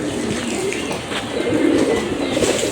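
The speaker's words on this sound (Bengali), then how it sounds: "টোটাল আমার প্রায় তিরিশ জোড়া কবুতরের মতো আছে" A loft of about thirty pairs of domestic pigeons coos in a low, overlapping murmur, steady and fairly close, with faint stirring and no voices over it.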